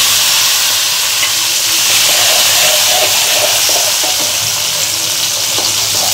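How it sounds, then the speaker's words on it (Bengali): Chopped tomato hitting a hot pan of cumin for vegetarian moong dal, with a steady loud sizzle and hiss of frying that continues evenly and is joined by faint stirring scrapes. "এবার দিয়ে দেব টমেটো কুচি।"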